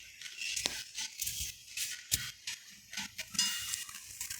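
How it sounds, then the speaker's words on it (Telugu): Puris deep fry one at a time in hot oil with soft crackling sizzle and irregular bubbling pops, punctuated by occasional clinks and scrapes of a slotted spoon, close and quiet, with no talk. "ఇప్పుడు ఒక్కొక్క పూరీని మనము డీప్ ఫ్రై చేసుకోవాలి."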